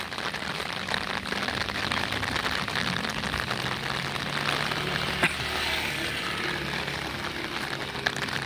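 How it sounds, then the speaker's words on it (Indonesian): Heavy rain easing off over a newly dredged river channel, a dense, steady patter on surfaces with a faint engine drone in the background and no voices. "Ini di kondisi terkininya ketika hujan deras turun. Nah, ini sudah mulai mereda."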